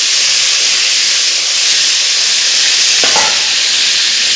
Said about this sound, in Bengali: পটলগুলো ভালো করে একটু লালচে করে ভেজে নেব